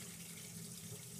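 Steady running tap water pours into a sink while a garfish is cleaned under the stream, a continuous quiet rushing with no talk.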